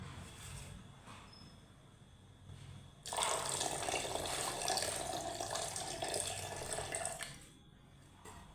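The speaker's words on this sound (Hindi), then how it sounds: "इसमें हम जो है वो थोड़ा सा पानी ऐड कर देंगे।" A small amount of water pours steadily into a jug holding yogurt for a few seconds, a soft hissing splash at close range in a quiet home kitchen before it tapers off.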